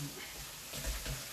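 Chettinad mutton varuval frying in a pan while being stirred, a continuous close hiss and sizzle with a few soft scraping stirs.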